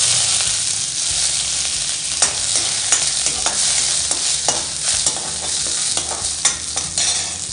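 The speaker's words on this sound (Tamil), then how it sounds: "கருவேப்பிலையும் வறுப்போம்" Curry leaves crackle and sizzle in hot oil in a pan, a steady bright frying hiss broken by repeated scraping stirs of a spatula, close and loud with no talking.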